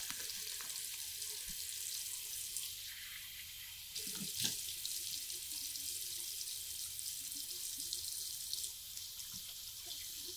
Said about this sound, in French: Donc, on va rincer.